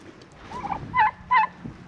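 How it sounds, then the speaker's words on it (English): Turkeys gobble nearby: two loud, warbling calls in quick succession, with softer bird murmurs before them and no speech. "Hi turkeys."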